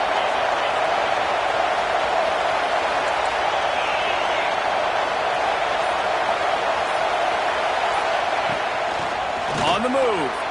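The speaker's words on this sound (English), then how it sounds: "This crowd ready to make its presence known." A football crowd roars in a packed stadium at a Notre Dame versus Texas game, a dense, steady wall of cheering that holds loud throughout, with a commentator talking over it.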